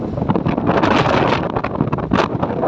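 Strong wind at a hilltop temple on a mountain pass buffets the microphone in a steady, loud roar with gusty surges throughout and no other clear sounds.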